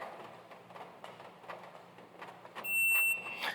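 A short, quiet electronic beep from a Shooters Global SG Timer 2 shot timer buzzer set to 1% volume sounds near the end, after a stretch of low background noise and faint clicks.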